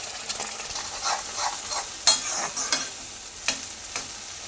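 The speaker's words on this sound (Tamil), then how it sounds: "இப்போ அரைச்சதை எடுத்து அதில் போட்டு நல்லா வதக்கலாம்" A ground masala paste sizzles in a pan as a spoon stirs and scrapes it in irregular strokes, close by with no talking.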